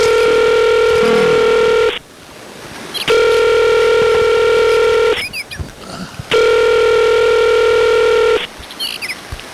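Telephone tones on a radio call-in show: three long, steady, loud electronic tones, each about two seconds, separated by noisy gaps with brief clicks and bleeps, with no one talking.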